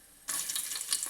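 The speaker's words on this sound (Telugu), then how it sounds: "నూనె వేడైన తర్వాత సాజీరా వేసి గోలిన తర్వాత" Shahi jeera hits hot oil and starts frying with a sudden sharp hiss, then a steady bright sizzle with small crackles, close and moderately quiet.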